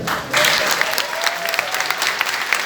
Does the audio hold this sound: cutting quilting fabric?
no